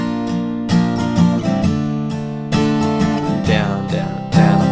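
Acoustic guitar strums the intro chords of a song in a steady down-up pattern, close and full, with rhythmic accented strokes and ringing chords.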